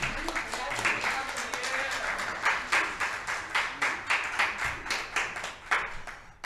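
An audience at a school creative writing showcase claps in a steady, moderately loud burst of many hands that thins into separate rhythmic claps toward the end, with no one talking.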